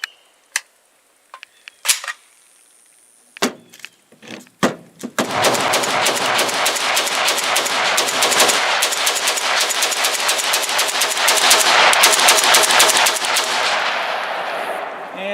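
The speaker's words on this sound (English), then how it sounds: "you just saw us firing" Serbian Zastava OPAP M70 rifle firing outdoors, a few spaced single shots and then a long, rapid, loud string of close gunfire running without pause to the end.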